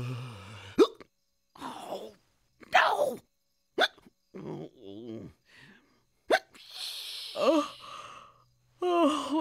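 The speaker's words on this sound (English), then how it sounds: "I just can't get rid of these hiccups." A cartoon bear hiccups over and over in short, sharp vocal bursts spaced through quiet gaps, mixed with sighs and breathy sounds, close and clear.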